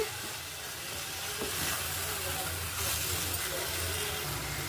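Tomato chutney fries in a pan with steady sizzling and hiss, occasionally stirred, close and fairly loud, with no talking.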